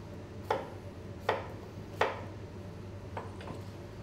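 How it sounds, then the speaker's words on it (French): Knife chopping potatoes into two-centimetre cubes on a board, a few sharp, well-spaced chops followed by two lighter cuts, close and quiet, with no talk. "Éplucher et tailler les pommes de terre en cubes de 2 cm."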